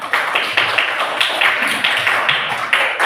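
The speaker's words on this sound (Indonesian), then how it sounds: "Oke, tepuk tangan kita semua." A classroom of children claps together in a steady, rhythmic pattern, a series of sharp, evenly spaced group claps that is close and fairly loud.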